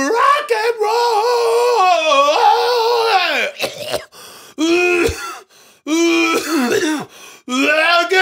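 A man coughs and clears his throat performatively on a comedy podcast, a series of loud, close, raspy hacks and strained vocal bursts with brief gaps between them.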